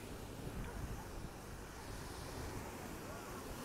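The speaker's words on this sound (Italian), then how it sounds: "Eccolo qua il mare." Sea waves and wind on the shore at Vallecrosia make a steady, dense roar of surf and gusting air, with wind buffeting the microphone throughout and no distinct breaks.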